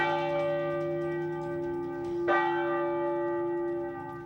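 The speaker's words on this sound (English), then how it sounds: "The bells toll not just for one tragedy, but two." Church bells toll with a long, ringing resonance, one fresh strike landing midway as the hum lingers, with no talking.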